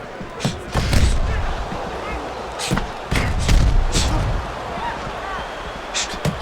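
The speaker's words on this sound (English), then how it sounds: "Not able to connect with the uppercut. A headshot blocked." Boxing punches landing and being blocked during a pro bout between two fighters, a run of heavy thuds and slaps over loud arena crowd noise, with a commentator talking throughout.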